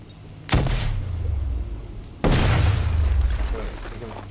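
Two heavy booming blasts in Batman Arkham Knight, each a sudden loud burst trailing into a long low rumble, the second following about two seconds after the first.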